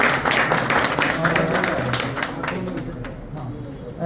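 Applause from a crowd at a Hindi journalism day celebration in Gohana: a continuous patter of clapping that fades gradually, heard under and alongside people talking.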